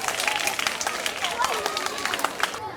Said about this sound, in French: Alors on va applaudir très fort pour tous nos parents qui nous aident et nous soutiennent.